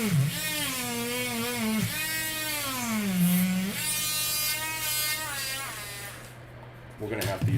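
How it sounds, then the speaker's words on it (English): A Dremel rotary tool whines continuously at close range while cutting a durable plastic model car part, its pitch sliding up and down as the load changes, with a voice talking over it. "We're going to have to use the Dremel for this."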